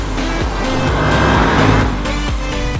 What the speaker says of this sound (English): nice throaty German V8